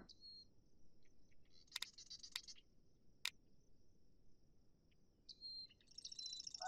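In the Night of the Dead video game, a bird gives a few faint, high chirps and short tweets scattered over a quiet bed of insect-like night ambience.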